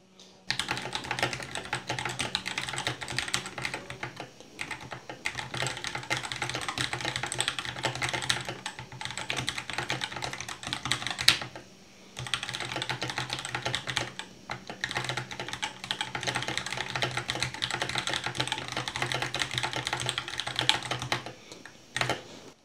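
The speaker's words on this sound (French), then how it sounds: "je vais taper un peu au pif sur le clavier" Steady, rapid clacking of a Keychron K2 V2 mechanical keyboard for over twenty seconds, loud and close, with a couple of brief pauses and no talking.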